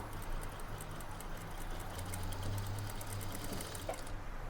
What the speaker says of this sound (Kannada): ನೋಡಿ ನೀಟಾಗಿ ಸ್ಟಿಚ್ ಹಾಕಿ